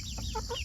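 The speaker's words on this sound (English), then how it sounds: "these are actually the largest chicken breed in the world. They're Jersey Giants." Several blue Jersey Giant chickens, the largest chicken breed, cluck in short close bursts over a steady low background hum.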